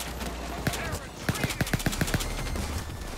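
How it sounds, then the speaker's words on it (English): Gunfire from a Payday 2 heist, a burst of rapid shots in a quick rhythmic run over a constant background rumble, near and fairly loud. "Where am I being shot from?"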